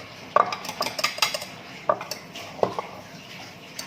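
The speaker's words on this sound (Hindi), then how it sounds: "तो बहुत अच्छे से मिक्स हो रहा है ये।" A spoon stirs an Oreo chocolate dessert mixture in a bowl, making close, irregular clinks and scrapes against the dish in short bursts.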